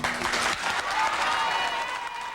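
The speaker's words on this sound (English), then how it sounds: "Members of Mount Carmel Baptist Church stand and cheer a near unanimous vote" Members of a Baptist church congregation stand and cheer a near-unanimous commission vote, with loud, dense applause and crowd cheering filling the whole moment.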